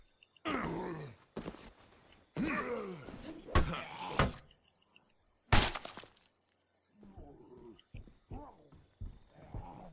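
Low, drawn-out zombie groans from behind a door in a video game, in several bursts, with a sharp crash midway, then softer moaning sounds near the end; no speech.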